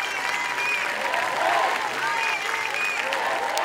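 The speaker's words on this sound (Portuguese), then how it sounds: "Sob aplausos, os corpos da vereadora Marielle Franco e do motorista Anderson Gomes chegaram à Câmara Municipal." Steady applause from a crowd at the Rio de Janeiro City Council as the bodies of councilwoman Marielle Franco and driver Anderson Gomes arrive, sustained and fairly loud, with a few whistles and voices mixed in.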